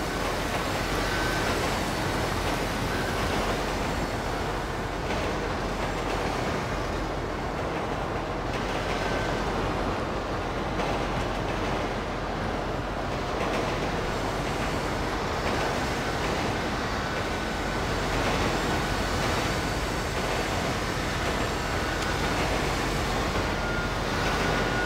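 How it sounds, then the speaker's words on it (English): A long train rumbles along steadily in GTA Online, a dense, unbroken roar of wheels and carriages that stays loud and constant throughout with no talking. "They jump on a train!"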